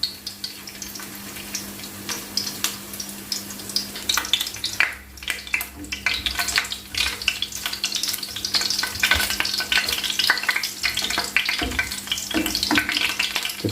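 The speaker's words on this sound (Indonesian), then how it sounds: "Serai kita goreng dulu" Lemongrass fries in a little oil in a pan, a steady close sizzle and crackle with intermittent scraping and clinks as it is stirred, running continuously with no talk.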